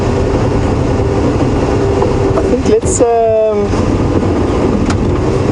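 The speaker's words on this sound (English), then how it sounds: "We've got our car started again and we are underway." A safari game drive vehicle at Djuma Game Reserve runs its engine and pulls away, a constant loud rumble and road noise with a brief rising whine, as someone talks over it.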